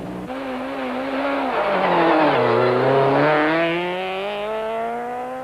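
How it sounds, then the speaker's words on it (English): A VW Golf Synchro rally car races through a stage at a 1991 mountain trail event, its engine howling as it climbs through the gears with a dip between shifts, loud and passing nearby. "Johan Evertser and Steve Harding take to the starting blocks in the VW Golf Synchro."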